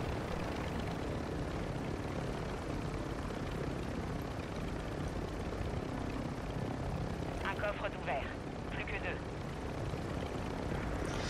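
A helicopter in Warzone 2 produces a dense, constant rotor and engine roar throughout, loud and close, with brief game sounds flickering near the end.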